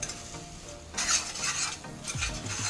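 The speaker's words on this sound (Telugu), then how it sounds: "ఇవన్నీ వేసుకుని ఒకసారి కలిపేసుకుందాం" A spoon stirs spice powders and turmeric into a frying egg masala curry gravy, giving soft scraping strokes against the pan over a faint sizzle, with a few clinks of metal.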